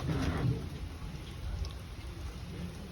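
Rain falls steadily outdoors in a Gujarat village, a continuous broadband wash with low rumbling undertones, fairly even in level and heard alone without talk.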